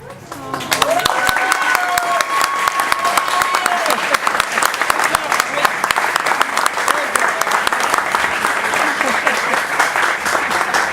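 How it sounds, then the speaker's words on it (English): A wedding reception audience bursts into sustained applause after a toast, loud, dense clapping that starts abruptly after a brief sung line and continues steadily from a close crowd. "Another round of applause for Ellie."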